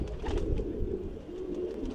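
A pigeon coos softly and repeatedly nearby, low throaty calls rolling on with no talk over them.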